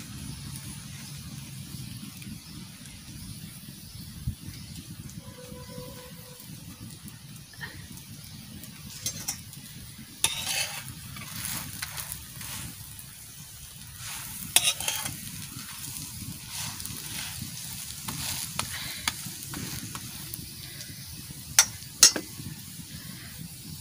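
Chicken meat sizzles steadily in a hot pan while being stirred, a continuous low frying hiss broken by scattered scrapes and clicks of a utensil against the pan, fairly quiet and without talk.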